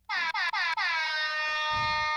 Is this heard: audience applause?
no